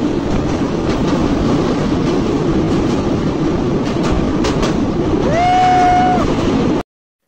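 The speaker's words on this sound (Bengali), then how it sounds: "সেতুর উপর ছুটে চলেছে ট্রেন" Passenger train running over a bridge across the Feni river on the Feni to Chattogram line, a loud, close rumble with rhythmic wheel clatter, then a brief high squealing tone near the end before it cuts off.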